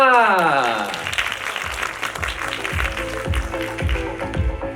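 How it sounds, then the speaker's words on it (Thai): A crowd at a Central The1 credit card launch event claps to welcome the brand ambassador, scattered hand claps rising after a fading musical chime, moderately loud and close. "ขอเสียงปรบมือดังๆให้กับคุณก้าวสุภัสรา"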